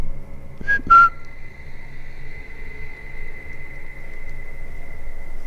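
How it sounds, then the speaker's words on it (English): A short two-note whistle sounds near the start, then a thin steady tone lingers faintly over quiet outdoor background noise. "If that was you whistling,"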